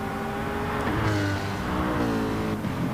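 Race cars in a World Cup racing video game snake through a track, engines roaring and revving continuously and loud, with a pass-by swell and pitch sweeps, without talk.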